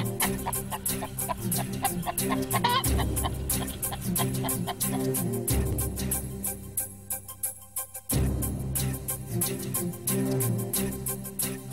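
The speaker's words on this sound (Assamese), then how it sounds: "আনিলা, তুমি এটা কাম কৰাচোন, এই মুৰ্গীটো সাউতকৈ দাঙি দিয়া, মই কাপোৰখন দি দিওঁ" A hen clucks repeatedly in short, rhythmic bursts, close and clear, against a background of steady ticking.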